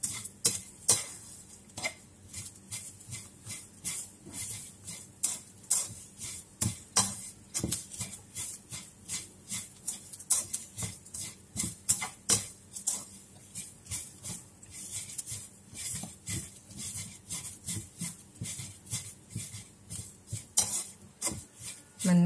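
Shredded coconut being dry-roasted in a pan, stirred with rhythmic scraping strokes of a utensil against the metal, repeating steadily and close over a quiet background for about twenty seconds.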